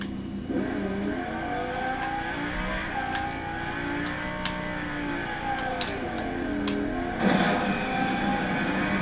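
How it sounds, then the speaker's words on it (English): A sports car engine in Fortnite revs and accelerates, a steady mid-pitched drone rising and falling in pitch with faint clicks over it and a small surge near the end. "This is much more faster than the Fang, because it's a sports car."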